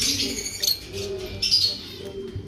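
Pigeons cooing softly in a dim loft holding off-color birds, low murmuring coos repeating under scattered chirps and faint background voices.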